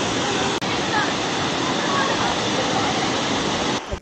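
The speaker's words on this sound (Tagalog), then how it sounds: "nasa likod ko ngayon yung tinatawag na Dao Falls nila dito" Dao Falls waterfall on Samal Island, a steady broadband rush of falling water heard close and loud, with a brief break near the start and a handling noise at the end.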